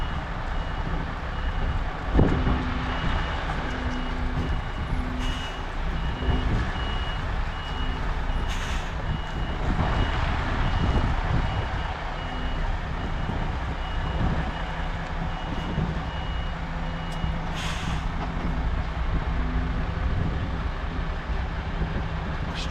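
A reversing truck lets out a long run of evenly spaced beeps over a steady low engine rumble, with a few air-brake hisses and clunks along the way and no talking.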